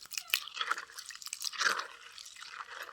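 Water splashes and drips lightly into freshly ground crab masala while it is mixed by hand, giving soft, close, wet squishing and crunchy textures with no voices.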